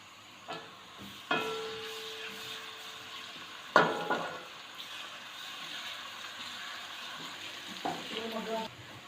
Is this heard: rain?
no